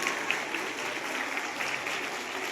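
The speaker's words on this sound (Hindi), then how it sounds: "जोरदार ताली अभिवादन के लिए।" An audience of college students applauds a visiting scholar and speaker, a steady, moderately quiet patter of many hands clapping without pause.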